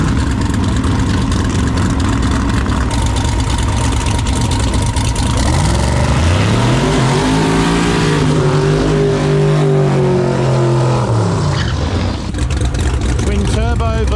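Drag race cars on a street racing track, twin turbo versus centrifugal blower, roaring loudly with a rising, sweeping engine note as they launch and accelerate; a voice talks over the din.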